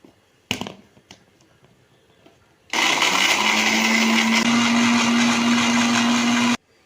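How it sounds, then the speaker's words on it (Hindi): After a couple of soft knocks, a food grinder grinding boiled chickpeas, lemon juice and chickpea water for hummus roars to life and runs loud and steady for about four seconds, then cuts off abruptly. "अब हम तमाम इंग्रेडिएंट्स को ग्राइंड कर लेंगे।"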